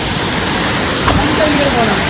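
Loud, steady broadband roar of a monsoon waterfall near an overflowing dam, continuous and close, with faint speech barely emerging above the rushing water.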